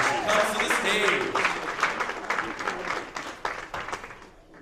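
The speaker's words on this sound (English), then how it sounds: "So let's give a round of applause for A. Janae as she comes to the stage." Audience applause at a poetry slam as a poet walks to the stage, a steady wash of clapping with a few cheers that gradually thins out and fades.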